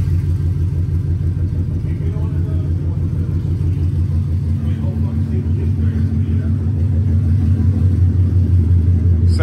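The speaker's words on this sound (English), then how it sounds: "When he does the burnout and it's like starts smoking, he's gonna shoot the smoke." A Ford Coyote V8 car with custom race dump exhaust roars steadily through a burnout, a loud continuous low rumble with a rapid pulsing engine note that swells toward the end, with a voice speaking underneath.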